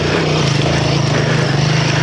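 Royal Enfield Himalayan 450 motorcycle engine pulling steadily at low revs on a UK green lane, a continuous loud droning thrum with no breaks.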